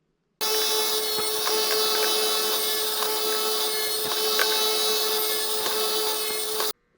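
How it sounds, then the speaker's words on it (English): Cherry wood rails cut for an end table, with a steady continuous power-saw whine holding for about six seconds before stopping abruptly; loud, close and unbroken, with no voices. "So we're going to cut our rails to 9 3/4."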